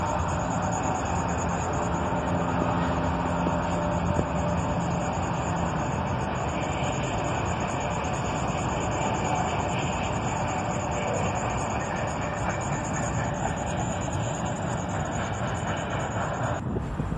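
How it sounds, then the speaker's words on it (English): Norfolk Southern 4003 long freight train passing close by with a third engine running as mid-train DPU, a steady loud rumble of wheels and cars rolling by without a break. "after almost 7 minutes, the bottom end of the train finally made it past us"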